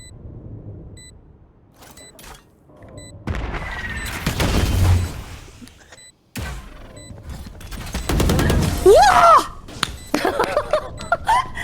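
A video game grenade goes off amid gunfire and impact bursts, with several sharp booms and crackling blasts in quick succession at close range and loud, across a busy firefight.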